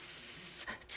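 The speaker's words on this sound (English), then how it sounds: "Así le doy un spray de T-Rose." Aerosol hair spray from a can on a drag queen's styled wig, a close bright hissing burst that runs steadily, breaks off briefly, then resumes for a short second spray.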